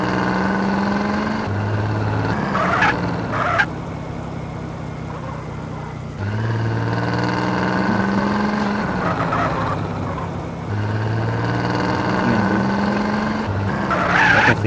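A lowrider car driving in GTA San Andreas, steady engine drone with shifting pitch and repeated tire skids and squeals, loud and continuous across the stretch with no talk.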